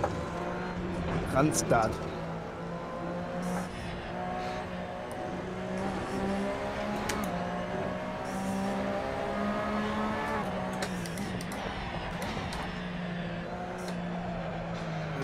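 GT racing cars, a Corvette and a Porsche among them, roar past at Spa-Francorchamps in the video game Assetto Corsa, engines rising and falling in pitch through gear changes, with someone talking over the racing.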